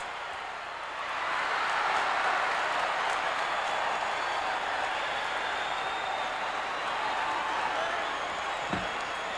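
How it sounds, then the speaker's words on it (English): Wrestling arena crowd roaring and shouting approval, a broad sustained wash of cheering that swells after the first second and holds loud to the end, with a thud near the close. "And a huge roar from the crowd here"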